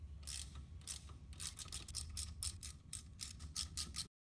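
A ratchet loosens grimy 10 mm bolts on a Toyota 4x4 solid front axle knuckle, giving close, rapid bursts of sharp metallic clicks in an uneven rhythm before stopping abruptly.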